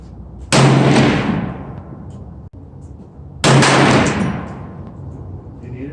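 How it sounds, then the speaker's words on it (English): Two loud rifle shots from a Thompson Center Venture .308 bolt-action rifle at a shooting range, each a sharp crack followed by a long decaying echo, spaced about three seconds apart. "I'm gonna be shooting every 5 minutes or so."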